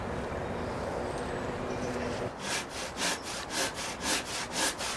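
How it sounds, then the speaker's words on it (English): A hand saw trims a wooden plank during a cabin rebuild. About seven rhythmic back-and-forth strokes sound close and clear after a stretch of background hiss. "The new plank is a little wide, so I trim it down."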